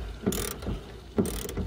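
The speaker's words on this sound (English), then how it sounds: "we had to use a size 50 Torx to take this out" Size 50 Torx bit loosening a tight seat belt bolt in a car interior, giving two loud ratcheting bursts with a sharp onset about a second apart, close to the microphone.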